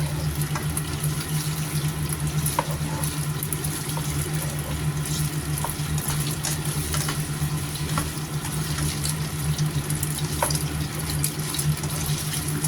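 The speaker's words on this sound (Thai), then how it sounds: "ผัดให้หอมก่อนนะคะ" Chicken stir-frying in a pan gives a steady, close hiss and sizzle with faint scraping clicks, continuous throughout with no talking.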